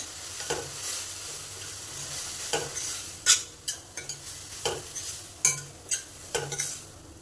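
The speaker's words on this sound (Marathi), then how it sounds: "पूर्ण ब्रोकोलीला लागलं पाहिजे सगळीकडून, पूर्ण हलवून घेऊयात।" A spoon stirs broccoli sabji in a pan, giving a string of sharp scrapes and knocks at an uneven pace over a faint, continuous sizzle, close and with no talking.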